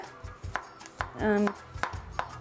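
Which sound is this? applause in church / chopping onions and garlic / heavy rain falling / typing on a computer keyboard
chopping onions and garlic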